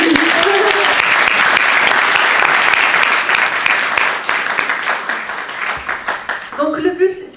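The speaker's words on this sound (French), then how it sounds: "On peut l'applaudir" Audience applause for a participant at a French-language network marketing startup seminar: loud, dense clapping that holds steady, then thins and tapers, with a voice starting up as it dies out.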